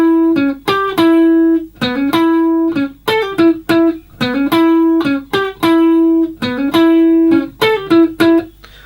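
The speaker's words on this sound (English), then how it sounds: "There's a little instrumental link passage. It's very much lead guitar based." Lead guitar plays an instrumental link passage, a loud, busy run of short picked notes and sustained bends, steady and continuous over the whole stretch.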